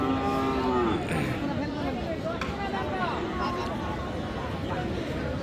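Cattle, including Sahiwal bulls and calves, low now and then amid a busy cattle market crowd, with people chattering throughout and the animals' calls rising over the steady hubbub.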